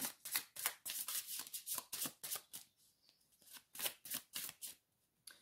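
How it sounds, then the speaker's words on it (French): A deck of pink oracle cards being shuffled by hand, a steady run of crisp riffling bursts close to the mic with a brief pause midway, quiet and free of talk. "Cartes roses, donc je vais mélanger les cartes roses."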